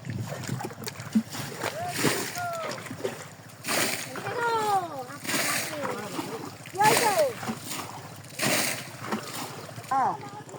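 A bucket of water is dumped out beside a fishing pond, with several loud splashing bursts rising over excited voices that keep talking throughout.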